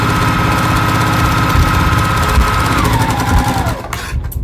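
Domestic sewing machine stitching a quilt block, a fast steady mechanical whirr with rhythmic needle clatter that slows and winds down near the end, close and loud.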